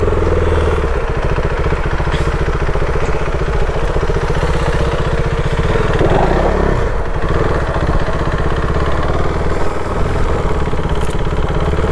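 A vehicle stuck in beach sand keeps its engine running at a steady, loud, close drone that holds through the whole stretch, with slight strain and clatter and no speech.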